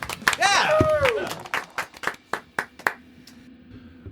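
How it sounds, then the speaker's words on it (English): A small group claps hands in a loose burst of separate, close slaps, starting under excited voices and cheering, then thinning out to a few scattered claps before stopping. "Should we clap? It's the first episode."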